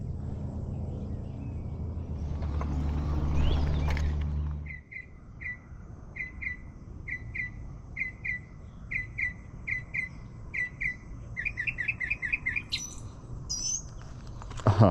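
A bird sings by a lake during morning fishing, a repeated run of bright short whistled chirps at a steady rhythm, fairly close, after a rumbling stretch, with insects buzzing in the background.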